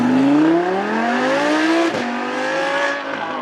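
Honda NSX supercar driving past on a track at a supercar weekend event, its engine note rising steadily then dipping and easing off, loud and close with no talk.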